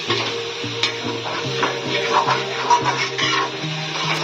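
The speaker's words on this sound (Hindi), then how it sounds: "इसको थोड़ा अच्छे से फ्राई करेंगे" Turmeric, chilli powder, garam masala, cumin and coriander fry in a pan for chicken egg biryani. A close, steady sizzle runs under repeated scraping strokes of a stirring spoon.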